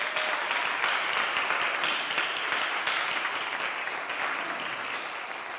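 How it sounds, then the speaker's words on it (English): Steady applause from a chapel audience honouring a high school choir, a dense, sustained clapping that fills the room evenly and fades slightly toward the end, with no voices over it. "How about a round of applause for Central High School?"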